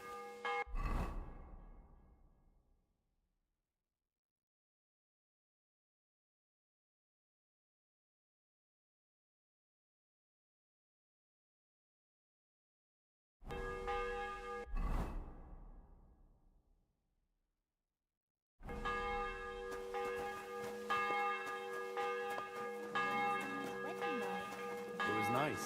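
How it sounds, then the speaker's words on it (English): A church bell rings in the Kingdom Come: Deliverance 2 video game, with loud strikes that decay into long ringing tails separated by silence, then a sustained bright pealing near the end. "the bell's ringing for Hans the 5th time"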